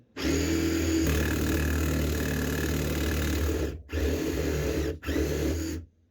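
An Ozito cordless compact jigsaw runs loud and close with a steady, buzzing motor whine, cutting out briefly twice before starting again, with no talk over it.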